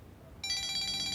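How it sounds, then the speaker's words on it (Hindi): A telephone starts ringing with an incoming call partway in, a bright, steady electronic ring that is loud and close, with a quiet room before it. "दुआ की सास का फोन आ रहा है"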